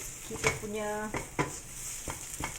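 Coconut and minced beef serunding is stir-fried in an oily pan, giving a soft sizzle with a few scraping strokes of a spatula, quiet and close.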